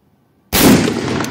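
An M1 Garand rifle fitted with an adjustable gas cylinder plug fires a single sharp, loud shot that breaks abruptly out of silence, followed by a sustained ringing echo.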